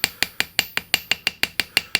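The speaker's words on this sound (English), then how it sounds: "I'm going to add a little bit of texture using" A chasing hammer lightly texturing a hand-forged silver ring, about eleven crisp, ringing metallic taps in an even, quick rhythm, close and clear, with no talk.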